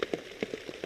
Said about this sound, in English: it's raining a steady rain out here